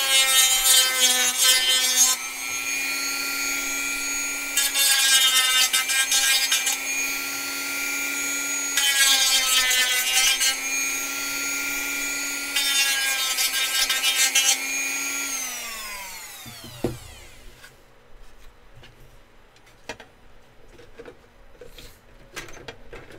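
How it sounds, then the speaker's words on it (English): A Dremel rotary tool grinding, its high whining tone running in several close, loud bursts with short gaps, then spinning down with a falling pitch and leaving quiet clatter. "Screw it, I'm just going to use the Dremel a little bit."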